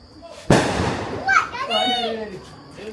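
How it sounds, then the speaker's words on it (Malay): Firecrackers and fireworks set off for Hari Raya celebrations: one sharp loud bang followed by crackling bursts and whistling tones, with children's voices and talk in the background. "Now kita mulakan peperangan mercun raya."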